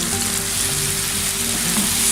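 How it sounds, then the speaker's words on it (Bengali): Chicken and mushrooms sauté in butter in a pan, a loud, steady, continuous sizzle that stays close and even with a faint low hum underneath. "এগুলা সতে হচ্ছে বাটারে অনেক ইয়ামি একটা ফ্লেভার বের হচ্ছে"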